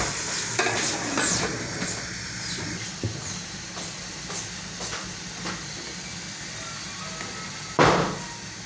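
Moongra radish pods being stirred in a hot pan: a steady oily sizzle broken by repeated scraping strokes of the spoon, with one sharper, louder scrape near the end. No one speaks.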